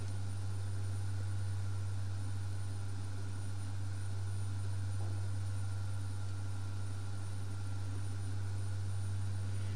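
A turboprop aircraft engine in the X-Plane flight simulator, accelerating away from the runway just after takeoff: a steady, loud low hum with a constant drone and no speech.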